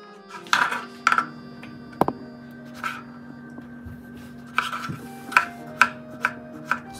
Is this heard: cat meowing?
no